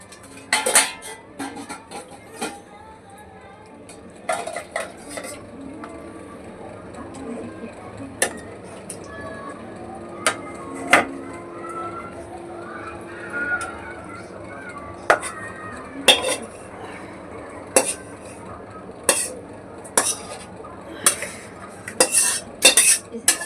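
Cooked Bengali fish curry with whole fish pieces goes from the pot into a serving dish, heard as scattered metal clinks and scrapes of a spoon and pan over a soft background, with a voice speaking at times.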